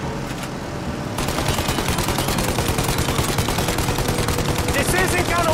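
Rapid, continuous automatic gunfire rattles at close range, aimed at a plane's engines during a Mafia Definitive Edition shootout, with dense bursts carrying on for several seconds.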